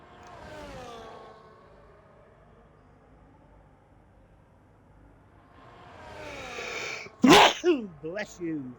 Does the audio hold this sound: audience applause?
no